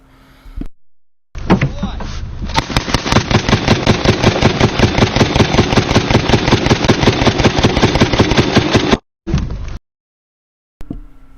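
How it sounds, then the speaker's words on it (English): A belt-fed Mark 19 Mod 3 40mm automatic grenade launcher fires one long sustained burst of rapid, evenly spaced heavy thumps lasting several seconds, followed by a brief second burst, then quiet. "This is a Mark 19 Mod 3 40mm automatic grenade launcher."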